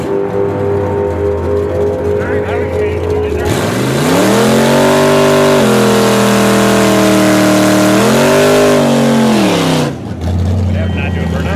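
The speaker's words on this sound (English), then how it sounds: "Ford Mustang on the right lane versus Mazda." Two cars launch in a drag race, a Ford Mustang in the right lane against a Mazda import: a loud engine roar rising through revs, dipping at a gear change, climbing again, then falling away as the run ends, with background chatter throughout.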